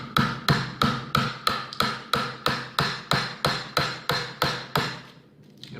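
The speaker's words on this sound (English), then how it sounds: "we're gonna chisel down a little bit so that each leg sits down in that recess" Wood chisel struck with a mallet to cut a recess for a heavy butcher-block workbench leg, about fourteen sharp, loud, evenly spaced knocks at a steady rhythm, then a brief quieter pause.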